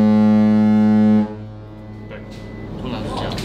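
A ship horn at a shipyard blares in one loud, sustained low tonal blast for about a second, then cuts off, leaving quieter background noise and faint voices.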